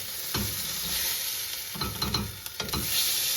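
Burger patty sizzling in a pan on medium heat, a steady hissing fry with a few soft scraping and tapping sounds from a spatula, close and without talking.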